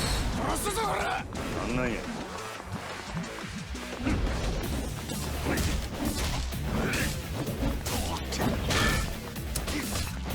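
In Yakuza 0, a vehicle repeatedly smashes and scrapes against walls, giving loud crashes and thuds among whooshes and game sounds, while a player talks over much of the action.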